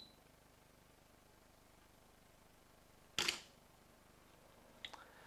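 A camera shutter fires once, sharp and close, tripped by a Pluto Trigger sensor for water-drop photography, followed by a fainter mechanical click about two seconds later in a quiet room.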